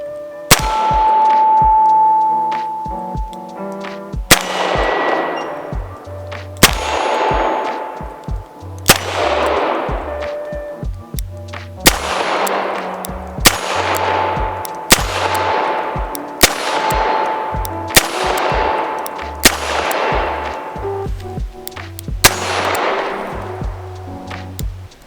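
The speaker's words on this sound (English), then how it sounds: "let me go put some more rounds down range" A Smith & Wesson Performance Center Model 19 Carry Comp revolver firing .357 rounds, about ten loud, sharp reports at an unhurried, even pace, each followed by a long ringing decay.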